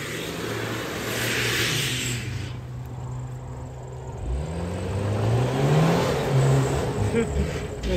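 A car doing a burnout roars and revs steadily, engine pitch rising and falling with a broad smoky tire-spin hiss, loud and continuous throughout, with people's voices mixed in around it.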